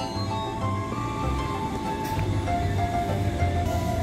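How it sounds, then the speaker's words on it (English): A commuter train to Rangkas Bitung stands at Tigaraksa station in Indonesia, and a steady low rumble of engine and wagons runs throughout with faint tonal hum and no talk. "This is the train to Rangkas Bitung. Destination Rangkas Bitung from Jakarta Tanah Abang."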